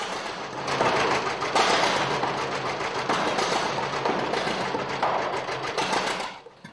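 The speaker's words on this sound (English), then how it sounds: "They bark and bellow, the steering wheel shakes, and fire shoots out of the exhaust." A John Deere tractor engine bellows with a loud, steady, rough mechanical roar and dense chattering. It runs continuously for several seconds before dropping away sharply at the end.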